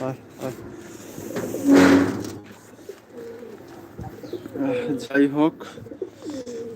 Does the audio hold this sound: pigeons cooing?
yes